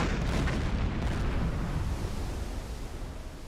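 Deck gunfire aboard a WWII submarine in a war patrol game, a sustained loud roar of blasts and rumbling explosion that fills the whole clip and fades slightly toward the end.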